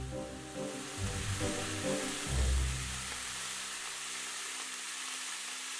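Chestnuts pan-fry in the hot cooking juices left by a flambéed Black Angus beef sirloin, giving a steady soft sizzle with a few low stirring bumps, close and moderately quiet with no talk.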